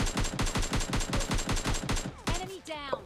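Rapid bursts of M4 automatic rifle fire crackle in quick succession in PUBG Mobile Lite, then stop, followed by brief game sound effects.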